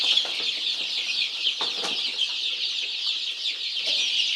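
A dense chorus of high, shrill peeping from a batch of red Colombian criollo chicks, many overlapping chirps forming a continuous close twitter with occasional louder individual cheeps.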